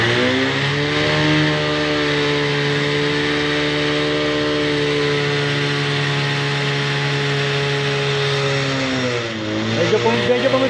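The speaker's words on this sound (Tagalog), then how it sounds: "Medyo pumipino yung ano, yung tunog ng makina mo." An engine with a pinging knock runs steadily at a fairly high, constant pitch, loud and close, then briefly dips and picks back up near the end.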